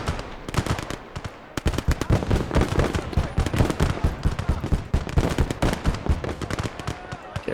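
An MP40 submachine gun in a WWII game fires in rapid, continuous bursts close up. Dense crackling automatic fire runs throughout, layered with other battlefield gunfire and a faint voice.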